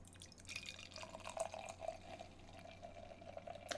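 Imperial stout beer poured slowly into a limited edition Harpoon snifter, a faint trickle with soft drips and liquid splashes, close and quiet with no talk.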